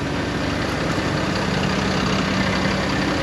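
The idling engine of a farm tractor, a 315 due for replacement, heard while prepping to pump manure: a steady, close, even drone with no talking.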